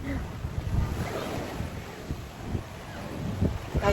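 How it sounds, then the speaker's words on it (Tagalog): Sea waves wash against the shore on a roadtrip to Infanta, Quezon. The surf makes a broad, constant rush, heavily mixed with blustery wind buffeting the microphone. "Nasa dagat naman kami ngayon."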